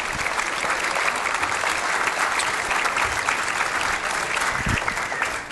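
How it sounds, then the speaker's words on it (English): A warm round of applause fills a meeting hall for political candidates at a York 912 Patriots gathering, steady and even clapping for several seconds without speech. "let's give them a nice round of applause"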